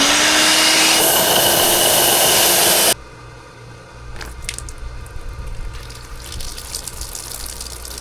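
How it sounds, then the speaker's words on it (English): A blower forces water out of a hydrant line with a loud, close, rushing roar for about three seconds, then drops to a quieter, uneven gurgling hiss. "So I got my blower. This works pretty good."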